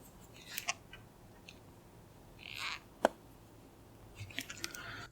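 Faint creaking and rubbing clicks from the hinge of a Motorola RAZR 5G foldable phone as it is opened and closed, a few soft squeaks and one sharper tick in a quiet room.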